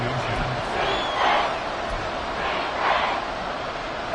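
Stadium crowd in the Madden 24 football video game, roaring during a third-and-inches play as fans try to force a false start; a steady, dense roar that swells twice.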